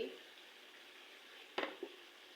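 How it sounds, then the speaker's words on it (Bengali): Potatoes frying in a pan while being stirred, a quiet steady sizzle with a couple of brief scraping clatters of the spoon near the end. "আমি আলুটো করে একটু একটু করে নেড়ে চেড়ে দিচ্ছি একটু পর পরই"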